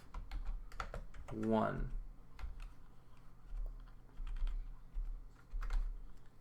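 Rapid, uneven keystrokes on a computer keyboard while Rust test code is entered, close and steady throughout, with someone speaking quietly over the clicking.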